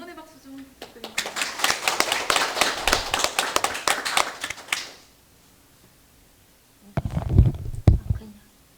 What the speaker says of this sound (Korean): 응원의 박수 좀 부탁드릴게요.